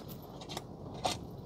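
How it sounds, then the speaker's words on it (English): Small screws are driven in to fix a Tesla Model 3 screen swivel mount, giving faint, brief clicking and scraping ticks spread across a quiet background. "He is just screwing those bad boys in"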